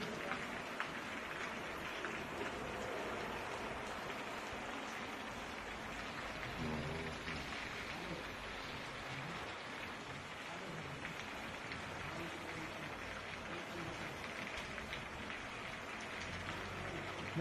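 Rain falling during a storm in Cyprus, a steady soft hiss of drops on surfaces, faint and unbroken throughout with no voices.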